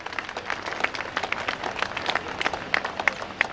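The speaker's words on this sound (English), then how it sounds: "may I request the audience to give them a round of applause, please." An audience at a Police Night event at the Delhi Gymkhana applauds the police band: a steady round of many hands clapping, moderately loud, with scattered sharper individual claps standing out over about three and a half seconds.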